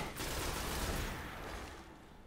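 Gunfire in the video game Destiny roars in a dense, continuous noisy barrage that fades slightly toward the end, loud and close with no distinct single shots.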